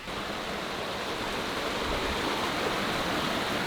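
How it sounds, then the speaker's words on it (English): A small outdoor stream flows steadily, a close, continuous broadband rush of water with no breaks and no voices. "I've got a nice little stream behind me right now"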